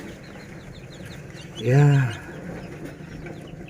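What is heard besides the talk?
chickens clucking in a chick brooding coop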